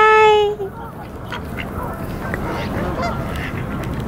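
A wild duck gives one loud, close nasal honking call at the start, then only soft outdoor background remains.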